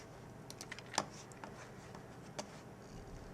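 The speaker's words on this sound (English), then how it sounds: "type in" Quiet, close keystrokes tap on a computer keyboard in short irregular bursts, with one louder clack near the first second and another later, over faint room hiss; nobody talks.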